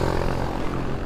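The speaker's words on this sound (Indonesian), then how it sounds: "DJI drone ya." A DJI drone flying nearby, its propellers giving a steady, loud, continuous buzzing whir that holds for about a second with no speech.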